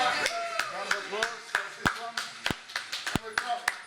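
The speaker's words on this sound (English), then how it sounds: "Round of applause." People seated around a table give a round of applause: a dozen or so sharp, fairly evenly spaced claps, close and distinct, over a quiet room.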